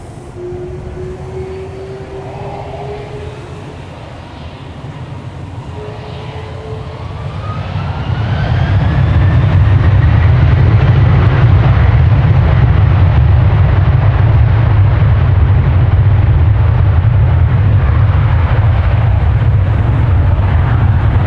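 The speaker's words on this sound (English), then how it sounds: "A350 from Malaysia Airlines." A Malaysia Airlines Airbus A350 departs Amsterdam Schiphol. A whining tone slides upward, then the engine roar swells into a loud, sustained broadband rumble close by that persists to the end.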